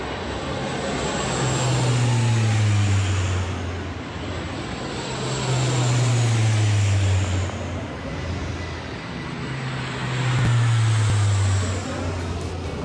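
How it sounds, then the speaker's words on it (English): Three C-130J Hercules propeller aircraft pass overhead in a flypast, in three rising and fading waves, a low steady hum swelling loud then easing, with wind-like broadband noise throughout. "C-130J Hercules performing a farewell flypast across the UK."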